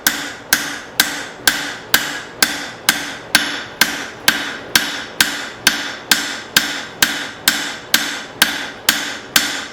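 A blacksmith hammering a chopper blade at the forge, about two sharp metallic blows per second in a steady, even rhythm, each strike ringing briefly before the next, loud and close with no voices.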